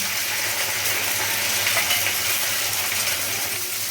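Cumin paste with chili paste fries in a pan for mushroom curry, making a continuous even sizzle at moderate loudness with faint scattered crackles and no speech.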